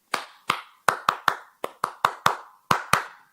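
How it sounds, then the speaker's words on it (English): A series of sharp hand claps for audio sync, about eleven in uneven rhythm, each ringing with a short echo in a reverberant room. "I bet you guys are gonna want to clap sync, huh?"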